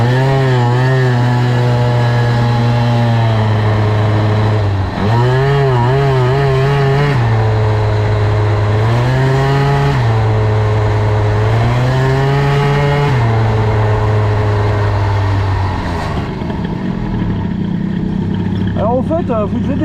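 A Parmatoy 65 moped engine fitted with a BOOST cylinder head revs loudly up and down in repeated surges, close and buzzing, then drops to a lower idle near the end.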